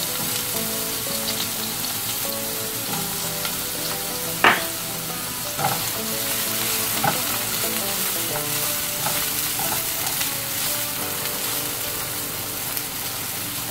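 Chopped onion frying in a pan for ground beef tacos, a constant close sizzle with scattered stirring scrapes and one sharp clink partway through, no voices.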